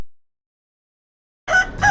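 A rooster crows briefly in a local bar advertisement: a loud, clipped two-part call that bursts in abruptly after near silence.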